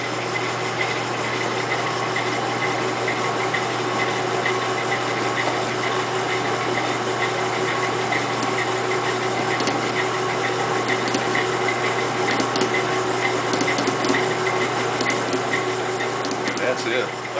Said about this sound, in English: We're only going to mix until the ingredients are just incorporated.